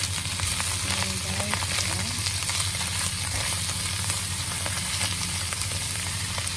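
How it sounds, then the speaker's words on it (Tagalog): Chicken breast coated in chili paste is stirred in a hot pan, giving a steady sizzle with scraping stir sounds on top. "Halo-haloin natin ang ating chicken breast."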